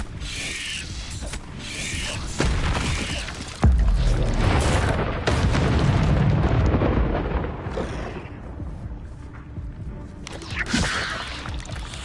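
Confringo explosive spell blasts in Hogwarts Legacy, with several heavy booms and crackling bursts over rumbling, mechanical game effects, loud and close.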